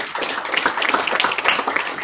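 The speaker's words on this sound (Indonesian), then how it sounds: "Baik, tepuk tangan buat HMI." An audience at a student organization gathering in Jakarta claps, a dense, steady patter of many hands heard fairly close for about two seconds without voices.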